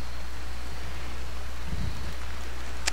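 Steady rain falls in the Rimworld video game, a dense, even hiss that holds constant throughout, with a faint low rumble partway through and a brief bright tick near the end.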